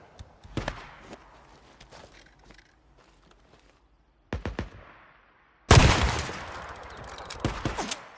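Gunfire in the video game Days Gone: scattered sharp shots, a short burst midway after a pause, then a loud heavy volley of rapid fire at close range.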